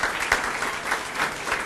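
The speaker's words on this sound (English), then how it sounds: "So big round of applause for our board." At a public library ribbon cutting, an audience claps for the town board. The applause is moderately loud and steady, with distinct individual claps popping through the wash of sound and no speech over it.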